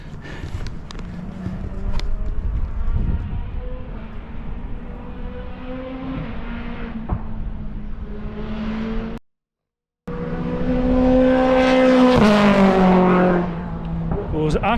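A BTCC touring race car on a warm-up lap at Croft circuit, its engine droning loudly then rising in pitch as it passes close by, with a brief dropout midway and a voice talking over it.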